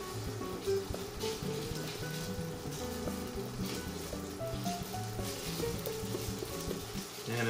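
Tofu frying in a 10 inch cast iron pan, a steady close sizzle and crackle with scattered pops and light scraping as pieces shift, no voices.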